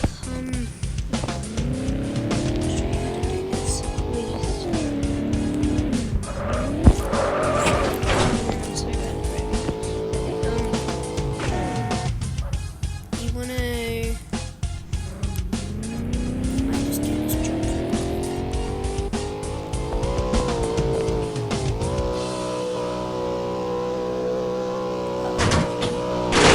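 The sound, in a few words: car driving and tire squeal in MadOut2 video game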